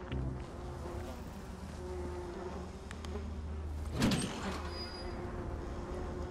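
In the video game Dying Light, an elevator's sliding door rumbles open with a short swell of mechanical noise partway through, set against a quiet buzzing in-game ambience.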